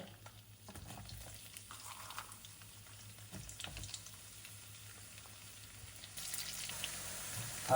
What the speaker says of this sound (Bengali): কিছুক্ষণ তেলে গরম মশলাগুলো ভাজার পরে পেঁয়াজ দিয়ে দিব আমরা